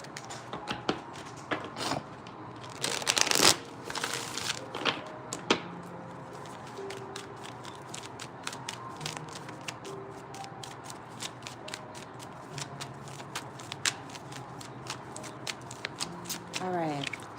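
A deck of oracle cards is shuffled by hand in repeated riffling and sliding bursts, loudest near the start and then continuing softly as a quiet voice talks.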